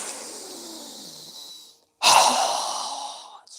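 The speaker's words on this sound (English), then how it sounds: "As we exhale through our mouth with a strong breath, we're going to lower our arms and hands down." A strong breath pushed out through the mouth during a yoga breathing exercise, a sharp breathy whoosh that starts loud and tapers off, coming after a softer, longer breath and a brief pause.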